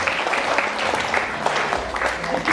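Applause from the audience at a school workshop, a dense, continuous clapping that holds at an even level the whole time, with a faint murmur underneath.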